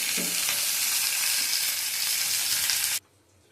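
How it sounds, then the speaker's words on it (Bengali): Cashews and raisins fry in a pan with a loud, steady, close sizzle, a few stirring scrapes near the start, then the sound stops abruptly. "কাজু কিশমিশটা আমি একটু ভেজে নেবো, ভাজা হোক।"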